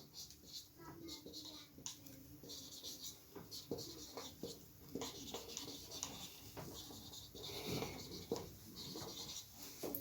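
A pen scratches and rubs across paper while a math exercise is worked out, irregular close strokes with pauses, as someone speaks over the writing.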